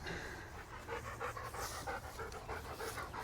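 Puppies pant in a quick, continuous rhythm, close but quiet, with no voices heard.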